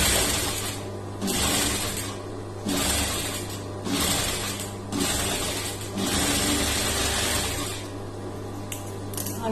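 A sewing machine stitches the neck lining of a blouse in repeated runs of steady whirring, each a second or so long, separated by short pauses, close and clear with a constant low hum beneath.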